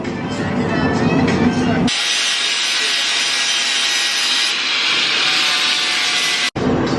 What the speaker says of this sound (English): Grind down some welds so it has a nice flat surface for where we put the subframe onto the frame.